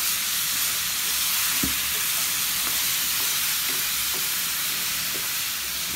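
Onions frying with meat in a pan, stirred while cooking, make a loud continuous sizzle with a few soft scraping knocks from the stirring, close up and without talking.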